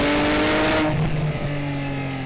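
A Porsche 997 GT3 RS 3.8 flat-six engine revs loud and close, climbing sharply toward about 8,500 rpm, then drops off to a steadier, lower drone.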